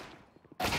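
Gunfire in the video game Counter-Strike erupts as a sudden loud burst of shots after a quieter lead-in with faint game sounds.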